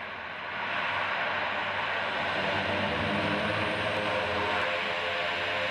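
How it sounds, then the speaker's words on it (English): A propeller airplane landing at Lukla airport in the Himalayas roars continuously, its engine noise rising in the first second and then holding a broad, steady drone. "the plane makes a tense, hairy landing at the improbable airport of Lukla"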